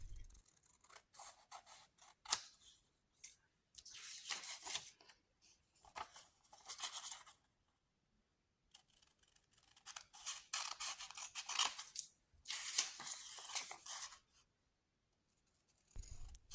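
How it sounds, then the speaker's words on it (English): Scissors snipping through paper strips from a printed game sheet, bursts of close, crisp cutting and rustling broken by quiet pauses. "For setup, we have to cut them out. Make sure to cut thoroughly along the finder patterns"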